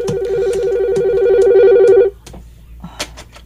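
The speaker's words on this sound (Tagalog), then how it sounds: "May nanawag na sab..." A telephone rings loudly with a rapid trilling electronic bell for about two seconds, then stops, followed by quiet room noise and faint clicks.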